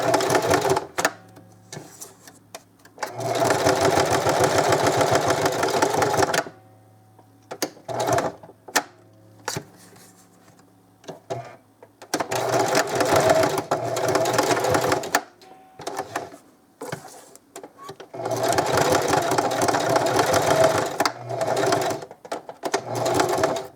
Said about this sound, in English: I don't want to stitch over my lettering